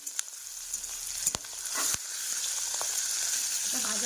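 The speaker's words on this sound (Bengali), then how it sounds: "দেখো রসুন আর কাঁচা লঙ্কাটা ভেজে তারপরে ফুলটা দিয়ে ভাজবো" Garlic and green chillies fry in hot oil, giving a soft, continuous sizzle that steadily thickens, with a few sharp clicks and scrapes of stirring near the start.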